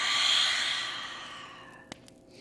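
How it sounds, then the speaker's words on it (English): A long, deep cleansing exhale through the mouth during yogic breathing in a solar plexus core practice, a steady breathy rush that fades out, with a small click near the end. "exhale, nice cleansing breath"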